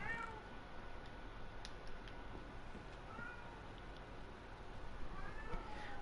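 A cat meows faintly a few times in a quiet indoor room, the thin calls spread out over several seconds beneath a low background hiss.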